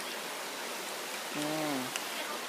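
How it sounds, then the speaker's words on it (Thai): Dadfa Waterfall pours with a steady, broadband rush of falling water, close and continuous, and a voice briefly sounds over it midway. "น้ำตกตาฟ้าเนาะ"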